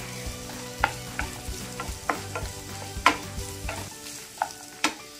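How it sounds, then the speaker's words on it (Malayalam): Chopped large onion stirred and sautéed in a pan for a chicken bread roll filling: repeated scraping clacks of a spoon against the pan over a steady low sizzle, with no voices. "ഒരു വലിയ സവാള ഇത് വെക്കുക, ഒന്ന് നന്നായിട്ടൊന്ന് മിക്സ് ചെയ്ത് കൊടുക്കാം."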